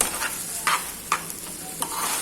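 Chicken noodles are stirred and tossed in a hot pan, a continuous soft sizzle with several scraping strokes of the utensil at irregular intervals, close and moderately quiet with no voices.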